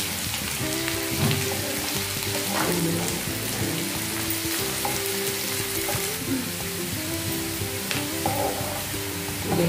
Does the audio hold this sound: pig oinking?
no